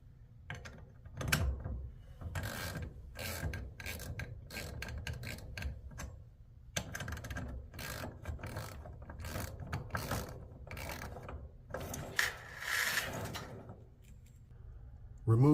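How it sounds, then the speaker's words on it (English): A 7/16 socket ratchets on the set screws of a garage door torsion spring cable drum, rapid clicking pawl bursts with short pauses and occasional metallic clanks, close and fairly quiet. "Loosen the right side cable drum set screws also using the same 7/16 socket."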